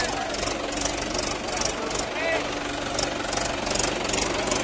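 A tractor engine, an Eicher 551 or Mahindra 575 at a tug-of-war contest, idles with a steady knocking thrum while people talk nearby.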